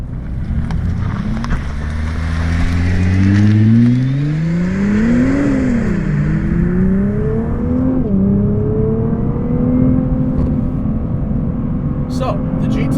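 A stock 2017 Nissan R35 GT-R Premium drives downhill, its engine loud and close as the pitch rises and falls through gear changes, while someone talks over it.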